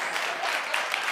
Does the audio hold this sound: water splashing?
no